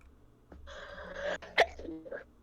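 A single sharp sneeze bursts out near the end after a short inhaled build-up, fairly close and otherwise quiet.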